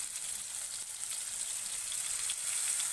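A spice paste of ground cumin, chili powder and turmeric with a splash of water sizzles steadily in a pan for a potato and pointed gourd curry, a soft even crackle and hiss close by with no voices.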